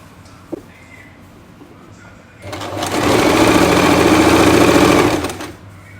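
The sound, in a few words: sewing machine stitching pants lining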